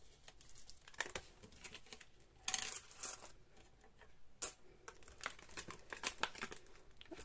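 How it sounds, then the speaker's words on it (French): Coins handled and dropped at a table, small change clinking and jingling in a steady run of faint, close metallic taps and shuffles, with a few sharper clinks throughout. "On va donner toute la monnaie"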